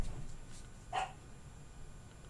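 A dog in the background gives a single short bark against a steady indoor hum, faint and distant, with no one talking.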